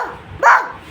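A child imitates a dog barking, giving one short, loud woof-like cry, close to the microphone and alone.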